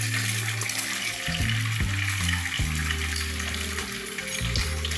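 An egg sizzles steadily in hot ghee over a medium flame, a loud and continuous frying hiss with light spatter that fills the whole stretch, mixed with a low droning tone and no voices.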